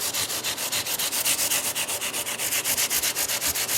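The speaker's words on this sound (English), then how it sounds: "go through a variety of grits of sandpaper, and I start with 400, and I just wrap it around my fingers, and I just go back and forth over the frets" Fingers wrapped in 400 grit sandpaper rub back and forth over the frets of a guitar neck, giving a steady, rhythmic rasping stroke of about five or six per second, close and alone with no talk.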